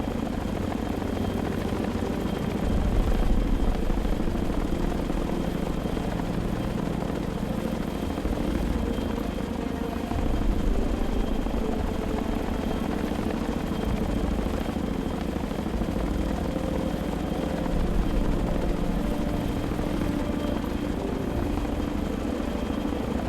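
Chinook twin-rotor helicopter in the Sea Power naval game, approaching Port Said International Airport, a steady droning rotor and engine roar with a low pulsing thump that holds throughout without voices.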